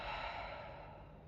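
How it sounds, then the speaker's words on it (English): A single deep exhale during a breathing exercise in a spinal mobility class, a soft, close, airy breath out that fades gradually over about a second. "Deep breath out."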